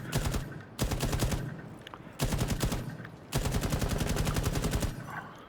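Bursts of rapid automatic weapon fire in the video game Rainbow Six Siege, three long loud volleys separated by short pauses, with no talk over them.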